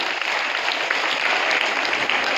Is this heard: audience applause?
yes